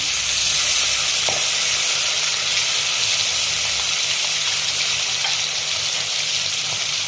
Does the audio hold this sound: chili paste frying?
yes